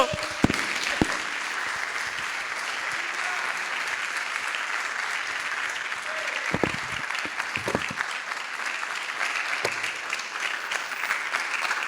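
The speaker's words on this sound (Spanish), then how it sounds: "Dale un aplauso a Cristo" Congregation applauding during a Spanish-language church sermon, a steady, dense wash of many clapping hands sustained for about twelve seconds, with a few louder individual claps standing out.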